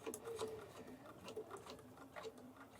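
A sewing machine stitching over a seam in foundation paper piecing, a quiet steady patter of rapid needle strokes with a faint whirring motor running throughout.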